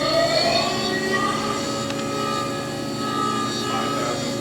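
The spindle of a 2013 Haas DT-1 CNC drill/tap mill center with a BT-30 spindle spins up, giving a steady, loud, high tonal whine with layered harmonic pitches that shift slightly as the speed rises.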